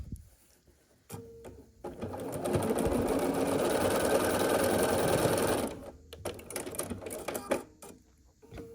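A sewing machine stitches a quarter-inch seam on a scrappy sampler quilt block, running in one steady burst of about four seconds, with fabric handling and soft clicks before and after.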